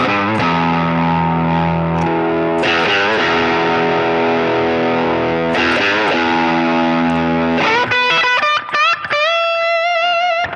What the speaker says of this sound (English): so you can hear the overdrive sounds into distortion.